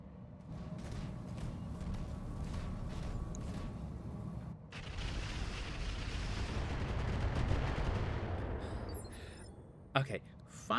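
Mech weapons in RogueTech open up in a long rumbling volley, a dense roar of heavy fire and mechanical grinding swelling under the game audio, ending in a few sharp impacts.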